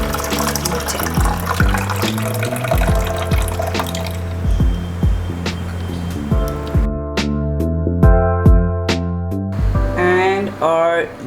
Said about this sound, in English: And our harvest juice is ready to be poured